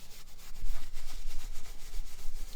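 A stiff Viking scrub brush working over a leather car seat, making rapid back-and-forth rubbing strokes in a steady scrubbing rhythm, close and fairly loud with no voices.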